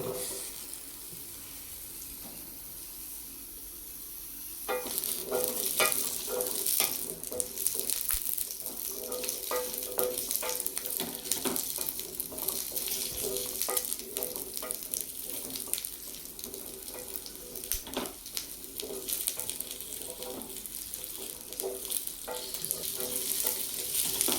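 Onions frying in oil for a Tamil-style mutton kuzhambu, a steady loud sizzle that swells after a quieter opening few seconds, with stirring scrapes and occasional clinks running through it, no talking.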